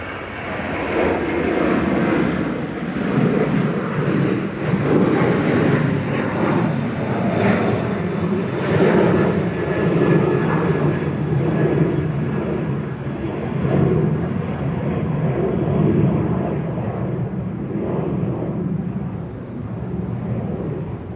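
Ryanair jet airliner at Manchester Airport, a steady broad engine roar lasting the whole time, loud and continuous with some wind noise and no talk.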